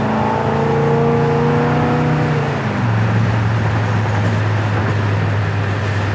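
A 1972 Chevrolet Chevelle Malibu with a small-block engine drives along, its engine drone climbing steadily in pitch before dropping at a gear shift and settling into a lower, even hum, loud and close with no talk.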